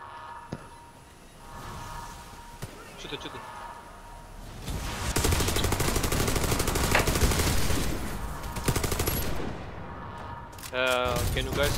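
Sustained rapid gunfire in the cooperative game PVE Pripyat runs as dense automatic bursts through the middle of the clip, loud and continuous, with brief quieter game sounds around it.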